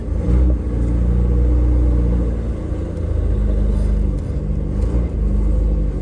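A Toyota Corolla TE51 engine running and revving, a loud close low rumble that swells and eases, with no talking.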